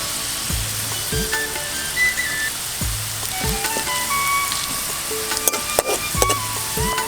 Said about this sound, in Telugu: ఎల్లిపాయలు సగం గోలిన తర్వాత జీలకర్ర వేసుకోవాలి